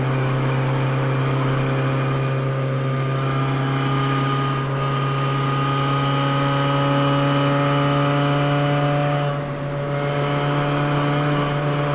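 A car engine drones steadily at high revs near the top of third gear on a forest highway through Pisgah National Forest, a sustained tonal whine with only slight dips, loud and unbroken with no talk.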